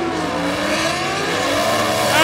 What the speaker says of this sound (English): Building up the boost in his bullseye turbo.